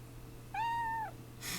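A single clear cat meow from a video game, sustained and slightly falling, heard close and alone against a low steady background hum.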